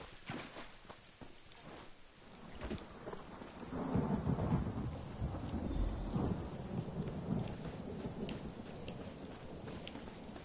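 Steady rain pours down while deep rolls of thunder rumble through, swelling louder midway and lingering as a low, continuous storm.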